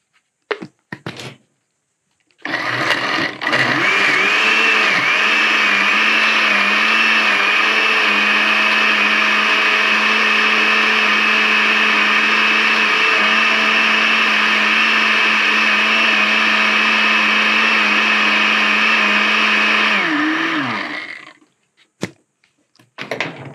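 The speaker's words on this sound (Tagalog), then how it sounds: "Then atong isunod og blend ang kaning maong itlog no. Duck egg." A blender whirs steadily for about eighteen seconds as it blends a duck egg, shell and all, mixed with water and salt; the motor starts with a thunk, holds a loud even drone, then spins down, with no talk over it.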